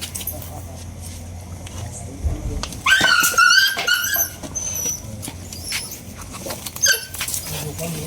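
A dog growls and yips in a short burst amid background noise, with brief whimpering sounds following, fairly close.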